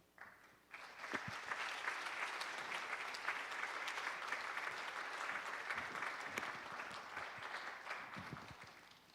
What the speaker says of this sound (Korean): 우리 시간에 큰 박수로 현승원 의장님을 모시도록 하겠습니다